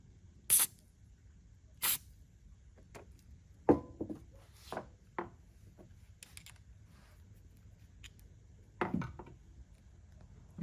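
White lithium grease sprayed onto a bearing of a Cirrus CR69 vacuum, several short sharp hissing bursts spread apart with small handling clicks between them, close and otherwise quiet.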